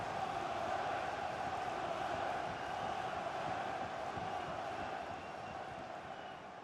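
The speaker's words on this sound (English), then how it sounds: "Oh, the crowd delighted with this." A stadium crowd roars steadily at a corner kick in the FIFA 19 football video game, a dense, continuous wash of cheering that eases slightly toward the end.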